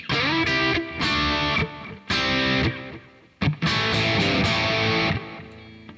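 Distorted electric guitar through reverb and tape delay, chords ringing out in bursts, each note smeared by reverb and trailing delay repeats that fill the gaps between strums.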